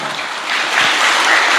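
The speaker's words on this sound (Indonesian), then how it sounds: "Tepuk tangan untuk kita." A crowd at an Islamic religious gathering in Surabaya breaks into dense, loud applause that swells slightly and continues without voices.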